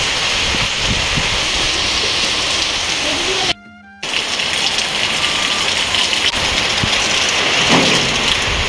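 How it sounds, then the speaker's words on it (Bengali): Heavy rain pours down steadily outdoors during a break in cooking, a dense continuous roar of drops with a brief near-silent cut partway through. "এত বৃষ্টি নেমে গেছে আর রান্না করতে পারা যাচ্ছে না"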